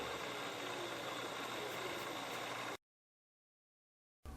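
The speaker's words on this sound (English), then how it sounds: "It kind of goes into a idling position, and then the auto start shuts off the motors to the machine" A Teletype machine's motors idle with a steady, even mechanical hum and whir, then cut out abruptly into silence before a brief return at the end.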